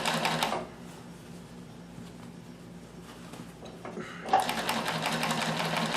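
A Bernina 610 sewing machine runs in fast mode with a rapid, steady mechanical whirr and needle chatter, slowing and quieting in the middle, then picking back up loud and fast.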